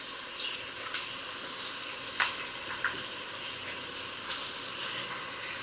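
Tomato paste frying in a cooking pot, a steady soft sizzle with faint crackles and a few small clinks, heard alone without talk.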